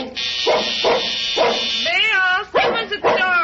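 A dog barks repeatedly in an old CBS radio drama: three sharp barks, then a rising whine and a couple more yips, loud and close, with no talk over them.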